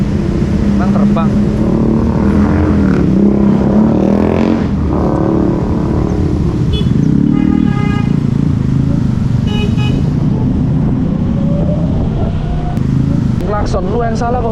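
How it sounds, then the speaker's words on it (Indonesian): Car horns honk repeatedly in stop-and-go traffic, sharp toots cutting through loud engine and motorcycle noise close by, while someone talks over the scene. "Jadi saya tuh heran sama orang-orang yang klakson gini ya."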